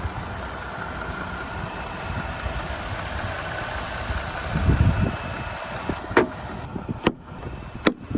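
A 2021 Jeep Gladiator Mojave's 3.6 liter V6 engine idles steadily with a low, even rumble, joined by a few sharp clicks or knocks near the end.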